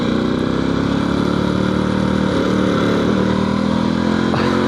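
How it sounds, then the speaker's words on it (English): A Halcyon 450 motorcycle engine running steadily and loudly up close, its drone holding without any evident break, even though fuel starvation sometimes makes it cut out. "every time I shift, the gas sloshes forward and starves it, and then it takes a second and kicks back in."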